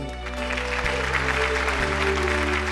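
A studio audience claps steadily and loudly to welcome the judge, celebrated chef Gary Mehigan, on a TV cooking-show set. The applause is dense and continuous, with sustained background music underneath.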